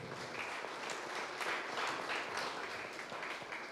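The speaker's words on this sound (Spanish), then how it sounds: "vamos a darle un fuerte aplauso" Audience applause fills a formal ceremony, a steady, dense clapping from a crowd that holds at moderate volume throughout without pauses.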